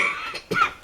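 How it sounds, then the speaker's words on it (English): Someone still recovering from bronchitis lets out a few short, close coughs in quick bursts, with nothing else heard. "I had a bronchitis a month and a half ago, so I still cough a bit."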